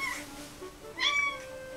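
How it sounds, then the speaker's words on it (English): A cat gives two short, high, thin kitten-like meows close by, one at the start and a brighter one about a second later, with quiet room tone between them. "He meows like a kitten."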